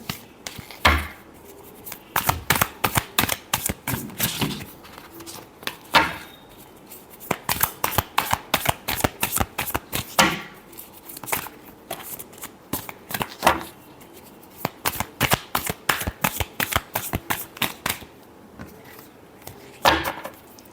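Tarot cards being shuffled by hand in repeated bursts of quick riffling flicks, each run lasting a second or two with short pauses between, close and crisp with no talking.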